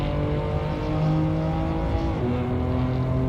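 A BMW race car in the Assetto Corsa driving game runs under a steady, droning exhaust note with layered engine harmonics, held loud and continuous throughout with no voices.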